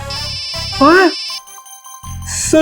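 A mobile phone rings with a bright, warbling melodic ringtone in an indoor scene, heard loud and close and interrupted by a voice speaking over it.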